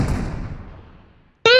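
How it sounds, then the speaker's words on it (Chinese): A distant gunshot or blast in a multiplayer shooter game, its boom decaying into a long fading rumble before a sudden loud in-game sound cuts in at the end. "这枪声是谁的啊？"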